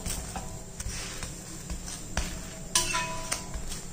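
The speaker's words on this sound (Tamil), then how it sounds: "தோசை கரண்டி வச்சு திருப்பி போட்டுக்குவோம்." A ragi dosa turned with a dosa spatula on a pan, a few sharp metallic scrapes and clinks over a faint background sizzle, close and without speech.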